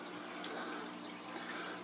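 Water burbles and trickles steadily from an aquarium filter system on a 75-gallon tank of African cichlids, a soft continuous splash heard close and quiet.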